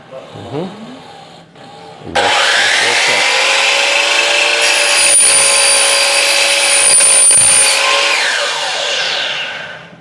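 Power saw making a square cut through material for a robot drivetrain, a loud sustained whining buzz that starts abruptly after a short pause and runs steadily before winding down, close by.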